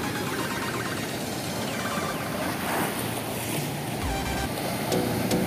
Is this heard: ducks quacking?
no